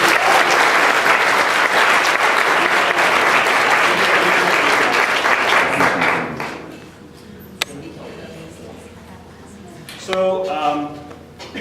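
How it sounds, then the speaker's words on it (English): Dense classroom applause from students for a group of people, lasting about six seconds before dying away into room noise, a thump, and a brief voice. "Big round of applause for our folks"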